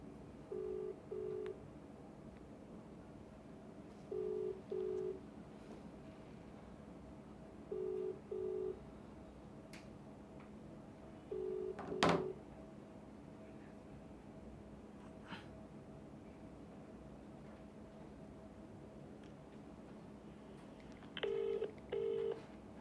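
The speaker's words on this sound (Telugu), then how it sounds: "ఒక్కసారి నేరేళ్ల హరీష్కి ఫోన్ చేద్దాం." A telephone call being dialed, with short paired touch-tone beeps recurring every few seconds, a brief sharp click midway, and low steady background hum throughout.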